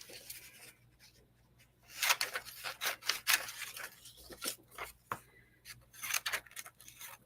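Scissors cut through paper to trim an ornament piece, a series of close, crisp snips and rustling slides in uneven bursts, heard alone.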